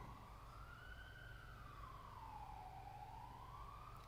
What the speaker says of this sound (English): Sirens constantly going off.